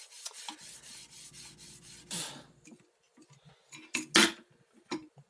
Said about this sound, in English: I'll take my stone and I'll try to hold it as still as I can and put the chisel flat on this stone